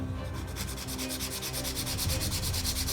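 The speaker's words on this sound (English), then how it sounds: "take a scratch piece of sandpaper and just kind of scuff up" A scrap of sandpaper scuffs the cardboard body tube of an Estes Wizard model rocket where balsa fins will be glued, a close, steady rhythmic rasping of quick back-and-forth strokes throughout.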